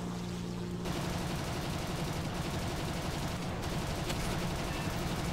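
Continuous aircraft gunfire raking a B-29 bomber in a War Thunder air battle, a dense steady roar of rapid shots over engine drone lasting the whole stretch, loud and close.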